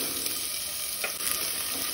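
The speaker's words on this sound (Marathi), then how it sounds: "कांदो मातसो तळसून घेवया" Onions sizzle in a spoonful of hot oil in a pan on a gas stove for Goan Malabar spinach bhaji, a steady, close frying hiss with faint crackles throughout.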